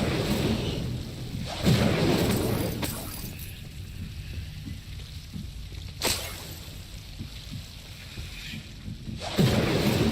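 The Incendio fire spell is cast in the video game Hogwarts Legacy, producing roaring, booming whooshes that swell and fade over a constant rumbling background, with sharp bursts recurring several times.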